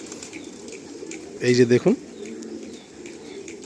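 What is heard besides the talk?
pigeons cooing at a pigeon loft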